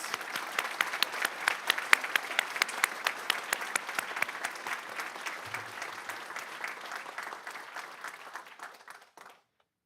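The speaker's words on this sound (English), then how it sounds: "And let's give Haley one more round of applause." An audience at a school board meeting gives Haley a round of applause: steady, fairly close clapping from a modest crowd that holds for several seconds, then thins and fades out to silence.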